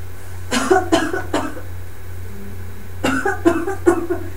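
Two short clusters of deliberate coughs, three quick coughs then a pause and a few more, done as a breathing exercise with hands on the forehead, moderately close against a low steady hum.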